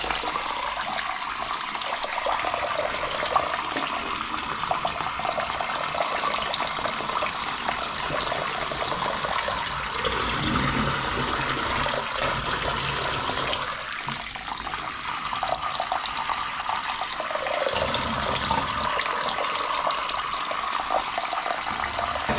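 Maize kernels for githeri get their second wash in a basin, with water sloshing and running steadily and fairly close for over twenty seconds and no voices.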